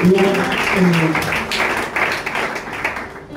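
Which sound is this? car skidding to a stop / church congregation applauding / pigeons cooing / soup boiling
church congregation applauding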